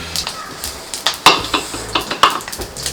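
Mustard seeds, fenugreek and urad dal tempering in hot oil in a pan, with crisp popping, light sizzling and repeated clinks of a spoon against the pan, close and fairly loud.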